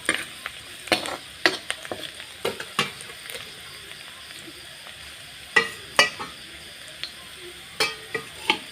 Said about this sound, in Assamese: এতিয়া মই পিঁয়াজটো অলপ ভাজি ল'লোঁ।